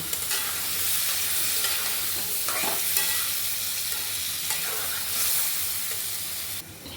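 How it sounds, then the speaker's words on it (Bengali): Potatoes and baim fish being stir-fried together in a pan, giving a continuous dense hiss of sizzling oil with a few louder scraping stirs, close up and without speech. "এখন দিয়ে দিচ্ছি আলু আর দিয়ে দিব মাছ আমি দুটোকে একসাথে করে কষিয়ে নিব"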